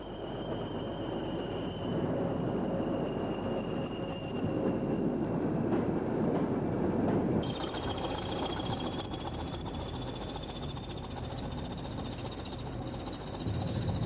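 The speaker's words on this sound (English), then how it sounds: "Here are a pair of 20s passing the site of an old station on the line" A pair of Class 20 diesel locomotives pass the site of an old station on a disused line, a steady loud engine drone and rumble throughout with a whining tone shifting partway through.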